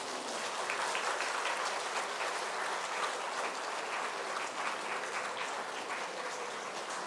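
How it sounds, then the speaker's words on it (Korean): Church congregation applauding to welcome a new pastor and his family: sustained, even clapping from many hands in a room, fairly loud and unbroken, with no talking over it. "우리 큰 박수 축복해 주시기 바랍니다"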